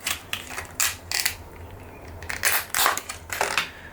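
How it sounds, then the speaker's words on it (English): Close, crisp plastic clicks and crinkling bursts come in quick irregular clusters while Milwaukee Fastback metal utility knife packaging is pulled open, with no talking. "Let's open this one here up without cutting myself."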